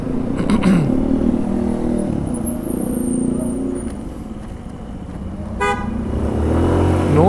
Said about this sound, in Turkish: Her saatte trafik yoğun şurada.